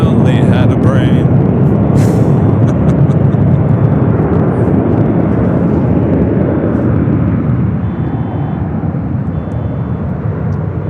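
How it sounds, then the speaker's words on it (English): A 25-year-old United Airlines Airbus A319 bound for Vancouver roars loud and close at Los Angeles International, its broadband jet rush easing slightly toward the end, with voices talking over it. "That is United Airlines Flight 2120A heading to Vancouver on this A319, 25 years of age."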